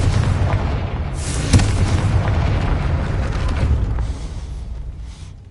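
Confringo blasting spell in Hogwarts Legacy, cast at a gate: a loud, sustained explosive roar with a sharp crack partway through, rumbling steadily before fading out.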